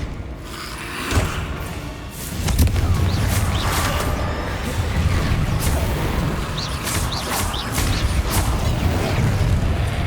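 Confringo blasting spell cast in Hogwarts Legacy, heavy booms and thuds rolling through a dense, continuous battle din that stays loud throughout.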